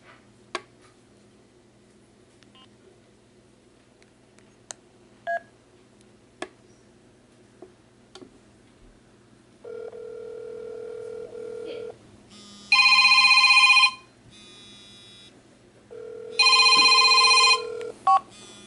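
A cell phone using Magic Jack calls an AT&T cell phone: scattered faint ticks and key taps, then a steady ringback tone and two loud bursts of a harmonic ringing tone, close and clear with no talk.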